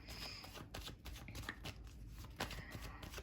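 Tarot cards are shuffled by hand in a quiet room, a brief, soft series of riffling flutters and taps up close.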